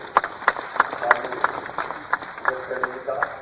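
Audience in Indore clapping with both hands at a public event for road project inaugurations, sparse irregular claps spread through the room, with a voice speaking over them.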